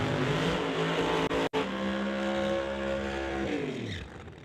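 At a drag race, a 1967 Shelby and a 2017 Corvette with a supercharged Hemi launch with loud, roaring engines and a rising revving pitch that holds and then fades as the cars pull away.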